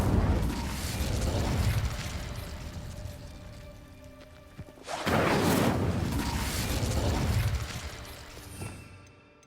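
Incendio fire spell cast in Hogwarts Legacy: bursts of flame with whooshing roars, one big loud surge midway and smaller fiery pops around it, with mechanical game clatter beneath and no talk.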